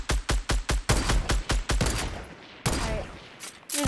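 Gunfire in a shooter video game: a rapid string of loud, evenly spaced shots, then a few more scattered blasts with a fading echo tail, close and sharp.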